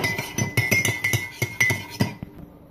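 Batter and milk are stirred in a mug, a spoon clinking sharply and rhythmically against the sides about a dozen times, close and clear, then stopping abruptly.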